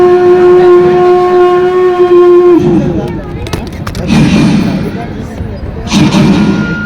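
A mimicry artist at a temple fair voices a train crossing a bridge, opening with a long, loud whistle-like tone, then breaking into rhythmic rumbling and chugging bursts, close to the microphone.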